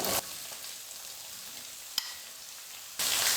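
Two large finely chopped onions sizzle and fry in a pan with lentils and dried chillies, a steady close hiss with a sharp stir clack midway, surging louder near the end.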